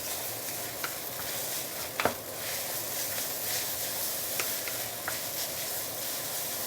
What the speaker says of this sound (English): Let it char and stir fry again.